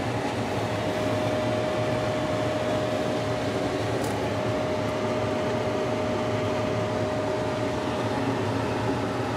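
A paint booth's air filter fan runs with a steady, even whoosh of air and a constant faint tonal hum, unbroken throughout.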